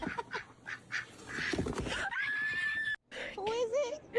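Ducks quack in short nasal bursts, mixed with people talking and laughing over them, with a brief drop to near silence before a final run of wavering calls.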